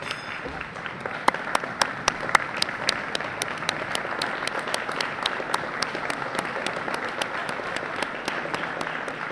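Student athletes and guests at a college athletic awards banquet applaud VIPs, a sustained round of clapping with sharp individual claps standing out near and crisp over a hall full of hands.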